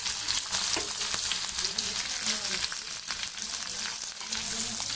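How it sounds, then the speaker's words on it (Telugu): Onions frying in oil in a kadai on a stove, a steady close sizzle with light crackling throughout and no talking. "స్టవ్ పైన కడాయి పెట్టుకొని ఆయిల్ వేసుకున్నాను. ఆనియన్స్ వేస్తున్నాను"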